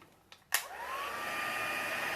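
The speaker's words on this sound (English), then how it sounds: "I turn on the heat tool for a second" A heat embossing tool switches on with a click and then blows a steady, loud whooshing hiss of hot air that continues without letting up.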